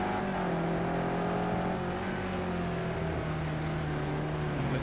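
A Bentley GT3 race car engine in Project CARS 2 at Zolder, a loud, sustained, close drone with shifting tonal pitch as the throttle is worked, no talk over it.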